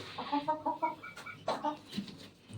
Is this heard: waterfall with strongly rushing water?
no